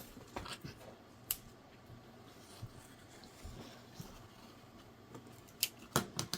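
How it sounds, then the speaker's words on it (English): Quilting fabric being cut with scissors, with soft intermittent snips and a few sharper clicks, close and quiet, with no talking. "We are only going to cut this inner part off."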